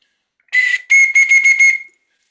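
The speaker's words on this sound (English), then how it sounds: "that whistle is a whistle to blow when you're jumping out of a trench" A shrill trench whistle blown nearby: one long blast, then a brief gap and a run of rapid, trilling pulses, loud and alone.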